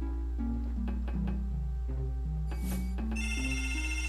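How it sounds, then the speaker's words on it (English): A telephone rings in the PlayStation game Blasto, a run of electronic ring tones over the game's music and a low steady hum, with short melodic steps and a bright chime partway through. "The phone is ringing."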